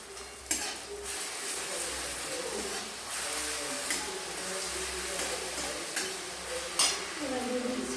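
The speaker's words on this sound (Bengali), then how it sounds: "যেহেতু চিকেনটা আছে, তার জন্য মশলাটাকে খুব সুন্দর করে আমি কষে নিচ্ছি" Chicken masala being stir-fried in a pan with grated ginger added, heard as steady close scraping and stirring with a light sizzle and occasional utensil knocks against the pan.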